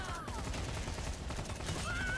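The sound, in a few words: gunfire from a gun in the video game LawBreakers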